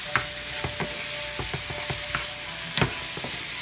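Chopped vegetables sauté in a hot pan for nopales con huevo, giving a steady sizzle broken by repeated scraping stirs of a utensil, close and fairly quiet.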